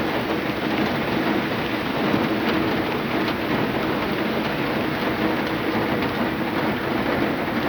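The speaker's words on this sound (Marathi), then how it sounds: "पाऊस पण भरपूर येतोय" Heavy rain pours down in Pune in a dense, unbroken hiss that stays loud and even throughout.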